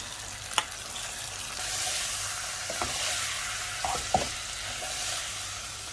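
Shrimp sizzles and is stirred in a hot frying pan, a steady close hiss broken by a few sharp clacks of the spatula against the pan, with no talking.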